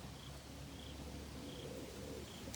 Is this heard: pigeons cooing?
yes